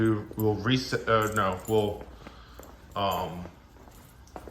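Keys jangle briefly in short metallic bursts while someone talks close by during a fire alarm panel test.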